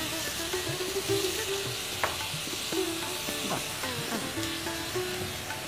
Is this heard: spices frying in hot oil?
yes